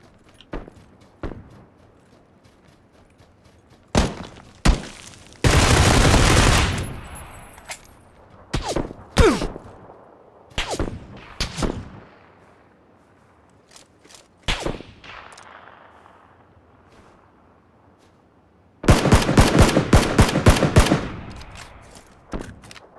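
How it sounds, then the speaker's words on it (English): Assault rifle gunfire in PlayerUnknown's Battlegrounds, heard as loud bursts of rapid automatic fire plus scattered single shots and footstep-like thuds, the longest bursts near the start and end, with no talk. "Why are you shooting, dude?"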